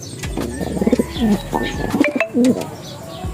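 Several racing pigeons coo close by in soft, rolling bursts, overlapping with faint chirps and a little background chatter.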